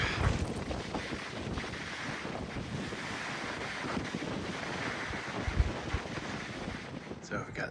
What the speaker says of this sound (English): It's very windy and cold up here.